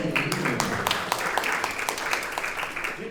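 Audience at a round-table academic event applauding a guest speaker, steady moderate clapping with distinct sharp claps standing out, continuing throughout at an even level.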